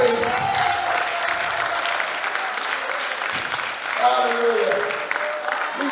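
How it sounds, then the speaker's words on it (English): A church congregation clapping hands in praise during a sermon, sustained applause-like clapping mixed with voices and shouts from the crowd. "Clap your hands and give God praise."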